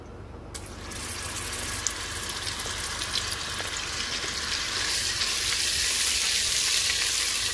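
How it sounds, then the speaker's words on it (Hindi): Steady frying sizzle of butter added to hot oil in a pressure cooker for mutton korma, a broad, hissing crackle that builds slightly louder over several seconds, close up and continuous, with no talking. "अब मैं इसमें मक्खन ऐड करूंगी।"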